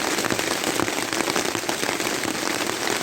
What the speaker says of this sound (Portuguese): Provavelmente vai um bom tempo do dia assim, ou talvez o dia inteiro chovendo.